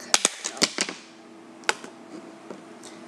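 A quick run of sharp plastic clicks and snaps as a knife pries pieces from a plastic eyeshadow palette, several close together at first, then a few scattered clicks trailing off.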